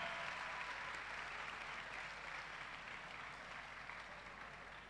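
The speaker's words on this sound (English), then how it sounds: "Keep the applause going." Sustained audience applause fills a hall at a university parents and families orientation, a dense steady wash of clapping that holds throughout and tapers only slightly toward the end.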